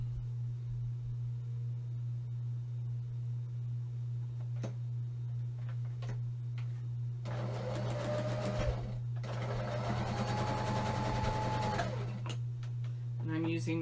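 A home sewing machine runs in steady bursts while chain piecing quilt block pieces for a friendship star, its fast mechanical whir starting and stopping over a constant low hum, close by.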